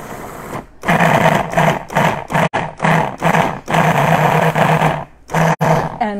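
A food processor pulses hummus ingredients with lime juice and tahini, giving loud, close whirring bursts in a rapid series of short pulses separated by brief gaps.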